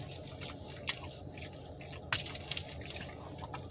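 Crunchy bites and wet chewing on cheese sticks eaten as a late-night snack, close to the mic, with irregular crunches and soft squishy mastication throughout and a sharper bite near the end.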